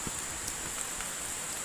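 Heavy rain falling at a riverside fishing camp during flooding, a steady loud hiss of downpour with a few close drop hits, no talk heard.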